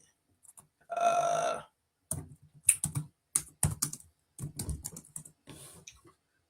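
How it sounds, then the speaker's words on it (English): A computer keyboard gives short bursts of typing: irregular clusters of clicking keystrokes separated by brief pauses. The sound is close and clear, with a longer muffled sound near the start. "I can't even type for nothing."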